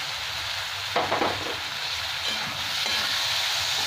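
Chopped large tomato hits hot spiced oil in a pan for paneer bhurji, bursting into a loud sizzle that settles into a steady, close frying hiss with faint stirring, no voices.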